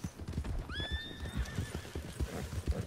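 A horse in the video game Red Dead Redemption 2 lets out a high, wavering neigh over a steady rhythm of hooves clopping, set against a busy, moderately quiet background.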